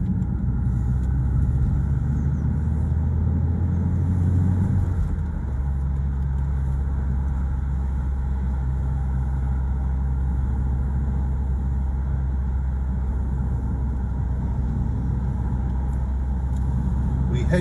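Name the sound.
road traffic and car engines going into Colchester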